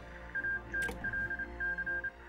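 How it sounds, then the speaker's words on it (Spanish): A mobile phone rings with a repeating pattern of short electronic tone bursts, fairly faint, with a brief click partway through and no talking over it. "otra vez está sonando el puñetero móvil"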